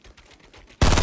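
Automatic gunfire in the video game Fortnite breaks in suddenly and loudly near the end, a dense burst following a quieter stretch of muffled game sound.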